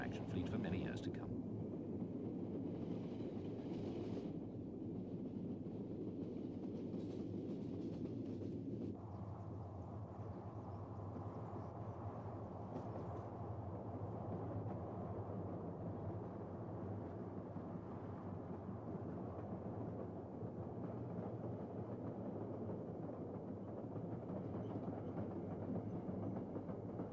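A British Rail diesel locomotive runs through fell country with a low, steady rumble and drone that stays constant throughout, a little distant and moderately quiet.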